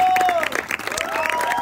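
A church congregation claps and cheers for a couple, a short burst of applause with shouts and voices mixed into the clapping.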